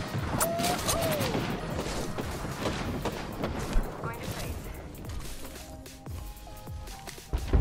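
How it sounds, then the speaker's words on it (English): Rapid bursts of gunfire in the Apex Legends battle royale video game, with an aggressive close-range firefight; shots crackle and thud continuously amid game effects, with a brief talking voice early on. "There's another one shooting at me."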